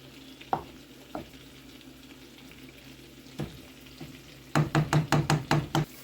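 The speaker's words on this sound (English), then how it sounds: "We're going to stir that in there." Spinach and seasoning being stirred into a chicken orzo mixture: a few scattered scrapes, then a rapid run of six or seven sharp spoon strokes against the pan near the end, over a faint background hum.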